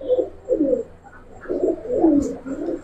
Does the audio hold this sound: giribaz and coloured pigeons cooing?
yes